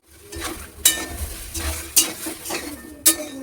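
Chopped vegetables sautéing in a pan with salt, turmeric and a splash of water give a low steady sizzle, broken by several sharp spoon scrapes and knocks against the pan at irregular intervals.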